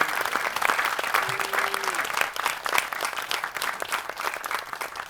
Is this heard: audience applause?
yes